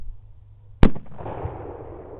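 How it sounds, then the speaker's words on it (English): A single loud, sharp rifle shot at a hog during a nighttime thermal hunt, up close, followed by a brief rumbling tail of echo and outdoor noise. "Shoot him again if you can."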